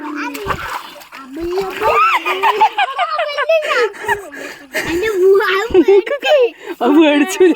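Children splash and play in water, loud close splashing mixed with their excited shouting, chatter and laughter throughout.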